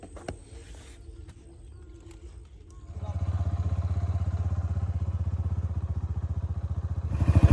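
A motorcycle engine starts up and settles into a loud, steady rumbling idle nearby, after some quiet clattering and rustling.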